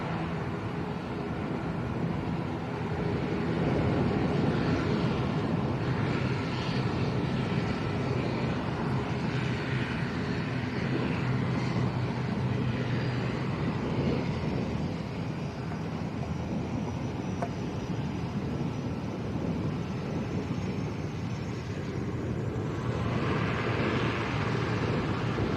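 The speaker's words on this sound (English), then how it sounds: "There is another Binter departure as well" A Binter airliner departs Arrecife Airport on Lanzarote, its engines a steady, broad roar sustained throughout, swelling slightly in places, heard at moderate distance with no talking.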